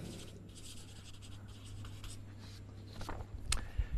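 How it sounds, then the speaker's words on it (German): A word is written by hand, a quiet close scratching of pen on paper in short strokes that grow busier and louder toward the end, with no talking. "jetzt muss ich schauen, dass ich es richtig schreibe"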